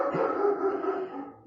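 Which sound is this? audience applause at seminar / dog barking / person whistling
dog barking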